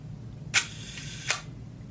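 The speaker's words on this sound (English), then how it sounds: "the front shutter curtain goes from right to left, a second goes by, or something like a second, and then the rear curtain goes by" The shutter of a Minolta 35 camera fires at a one-second speed: a sharp click as the front curtain runs, then a second crisp click from the rear curtain about three quarters of a second later, close and alone.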